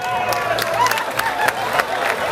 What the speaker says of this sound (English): I better clap for this guy.